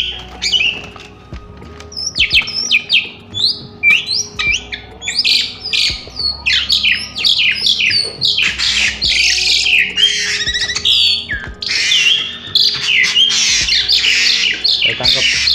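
An Asian pied starling squawks as it is being caught by hand, giving loud, harsh, repeated calls in rapid bursts close by, with low background hum.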